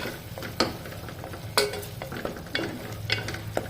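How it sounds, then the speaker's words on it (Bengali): A mutton curry spice paste fries in a pan with a little water while a spatula stirs it, making several sharp scraping strokes over a low sizzle, with no voices. "2 মিনিট মশলাটাকে কষিয়ে নেব"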